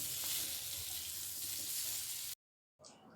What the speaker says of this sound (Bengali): ওই কড়াইতেই আরও একটু সর্ষের তেল দিয়ে আলুর টুকরোগুলো ভেজে নিচ্ছি